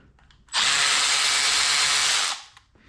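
Power tool unscrewing a bolt on a BMW N55 engine during a rebuild: a single loud, steady whirring burst lasting just under two seconds, close up, then stopping abruptly.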